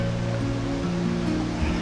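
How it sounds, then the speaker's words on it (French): Steady rushing water from a river flowing below a hiking trail in the Mercantour mountains, a continuous broadband roar heard from a distance, constant in loudness, with no voices. "Ça fait plus de 2 km que je longe une superbe rivière là."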